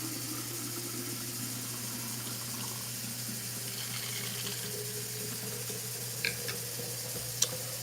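Water is poured slowly into a cooking pot on the stove as a thin, steady trickle, faint and continuous under a low appliance hum, with a couple of brief clinks near the end.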